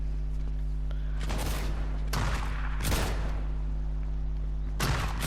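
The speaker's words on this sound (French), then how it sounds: "Ça tire mais je sais pas où" Bursts of gunfire crackle in Fortnite, with several volleys of rapid shots over a constant low game hum.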